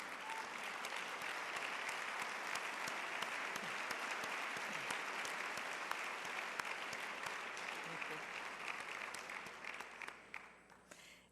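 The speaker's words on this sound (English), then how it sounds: "Coach, would you stand to applause?" A banquet crowd at the Boca Resort applauds a university football coach with sustained, even clapping that tapers slightly toward the close, heard at a moderate distance.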